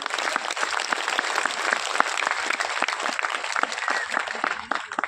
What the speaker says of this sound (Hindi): मैं चाहता हूं आप सभी लोगों के लिए जोरदार ताली होनी चाहिए।